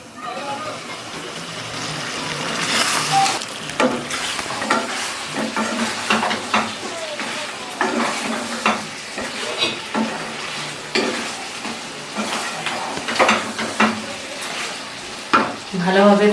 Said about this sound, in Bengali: আমি ঢেকে ঢেকে মাটন কষাবো।